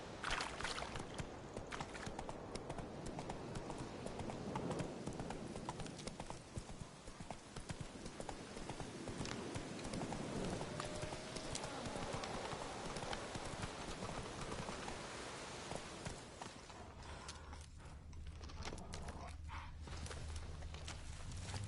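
Roach the horse galloping in The Witcher 3, a steady rhythmic clip-clop of hooves running continuously for over twenty seconds under a constant wash of game ambience, with no talking.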